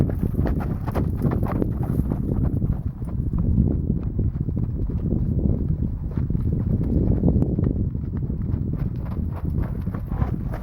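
Steady clip-clop of horse hooves on the ground, continuous and fairly close, with a loose, even rhythm throughout.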